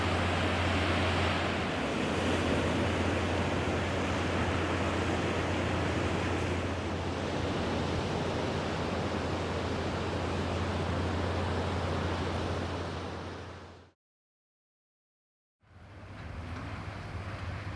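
Ocean waves and sea breeze on the Chile coast, a continuous loud roar of surf mixed with rushing wind that holds steady, then cuts out briefly before resuming.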